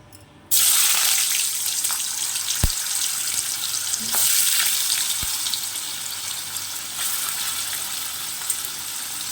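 Paneer cubes frying in oil in a pan on a home stove: a steady close sizzle that flares up as the pieces go in and stays bright and continuous, with a couple of sharp clicks along the way.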